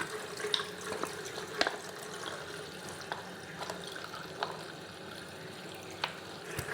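Water runs steadily from an outdoor tap on a hiking trail, a constant splashing hiss with occasional sharper drips and splatters.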